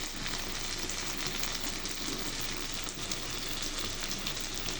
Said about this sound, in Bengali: আর একটা বড় তৈলাক্ত প্যানে অথবা কড়াইয়ে মাছগুলো ফ্রাই করে নিতে হবে।